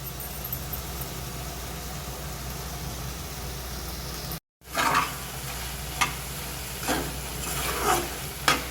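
Whisked yogurt and a ground spice paste hit a hot pan for dhaba-style chicken bharta, setting off a steady, close sizzle with sharper bursts of frying and stirring after a brief silent gap.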